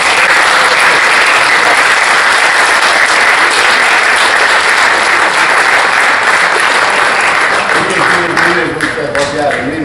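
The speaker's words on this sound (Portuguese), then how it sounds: "Uma salva de palmas." Loud, dense applause from a large audience at a book presentation, a steady roar of many hands filling the whole stretch, with a voice emerging near the end.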